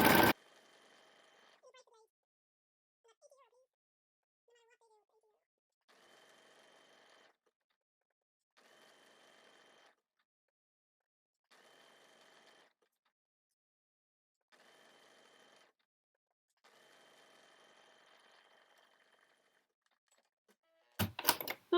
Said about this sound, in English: This is what I do on the overlocker.